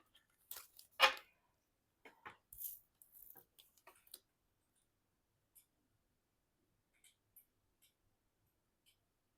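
Quick papery flicks and riffles of tarot cards being shuffled in the first few seconds, then sparse soft taps and near silence.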